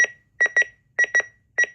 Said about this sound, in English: That's for the alarm clock.